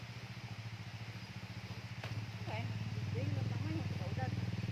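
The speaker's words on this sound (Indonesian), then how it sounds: "Ada motor" A motorbike engine near a waterfall route in Kuningan rumbles steadily and grows louder toward the end as it passes close by, with people talking over it.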